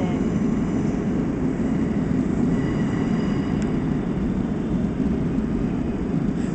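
A train pulls into a station in Amsterdam, a steady loud broadband rumble of rolling wheels and machinery that stays even throughout, with no talk over it.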